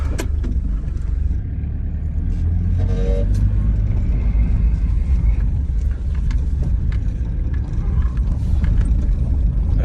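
A 1996 Mitsubishi Delica L400 van in four-wheel drive low gives a steady, loud low rumble of engine and drivetrain that runs the whole time, with no talking.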